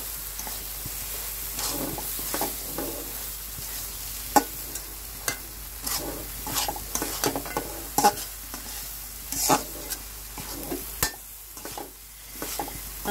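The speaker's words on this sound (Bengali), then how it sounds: "আবার একটু নাড়াচাড়া করে মিশিয়ে নিচ্ছি" Spiced lentil and amaranth greens curry, seasoned with red chilli powder, sizzles steadily in a pan while a utensil stirs and scrapes it in irregular close strokes, with no talking.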